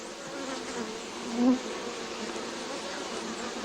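Honey bees hum in a soft, steady buzz while they tend queen cells on a hive frame taken out of the nest, with one brief, louder buzz passing close by midway.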